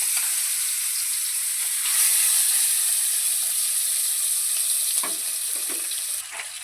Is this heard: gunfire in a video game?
no